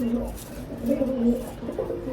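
Pigeons in summer molting season coo loudly and close, a continuous rolling, swelling murmur of several birds.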